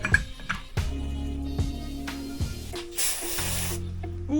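A brief, close hiss of brake cleaner sprayed from an aerosol can cuts in over steady tonal background music.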